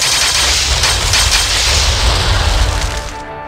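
Dense gunfire and booming explosions from the real-time strategy game Armies of Exigo roar in a continuous loud barrage of overlapping shots that fades slightly at the end.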